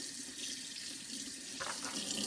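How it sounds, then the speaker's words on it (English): Hot tap water running steadily from a kitchen faucet over dishwasher filter parts from a Bosch dishwasher, a continuous hissing splash that briefly shifts as the stream hits the parts. "just run some hot water over these parts"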